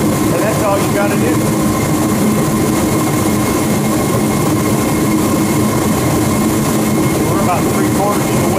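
A Ready Heater 170T forced-air heater burns with a loud, steady roar and rushing blower noise throughout, with no speech, a broad continuous rumble close by.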